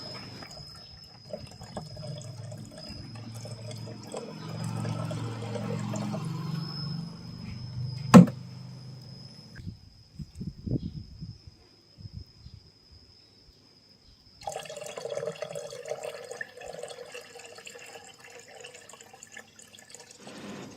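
Hydrochloric and nitric acid are poured and mixed into aqua regia, with a liquid stream trickling, a sharp clink of glass, a quiet gap, then another longer pour splashing nearby.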